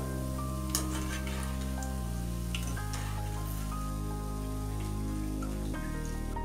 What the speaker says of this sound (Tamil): பூந்தி நல்லா பொரிஞ்சிருச்சு. இப்போ எடுத்துடலாம்.